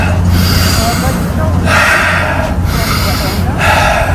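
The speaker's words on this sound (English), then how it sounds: "Never feel ashamed of breathing like an animal if you're, you know, working out" Heavy, forceful breathing during a core exercise workout: close, loud rhythmic breaths and snorting exhales repeat roughly every second over a steady low rumble.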